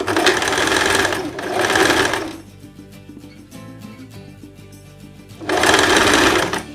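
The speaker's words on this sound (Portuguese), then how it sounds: "Vou costurar já as laterais da blusa." A sewing machine stitches the sides of a blouse in two fast runs, loud and close, pauses for a few seconds of quieter handling, then runs again at full speed.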